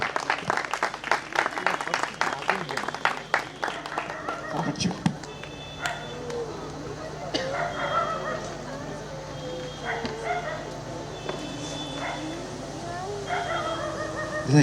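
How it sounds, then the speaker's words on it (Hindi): An audience at a Christmas carol gathering claps to welcome a reverend, a brisk burst of applause in the opening seconds that gives way to voices and general crowd murmur. "एक जोड़ा ताली बजा के हम उनका स्वागत करेंगे।"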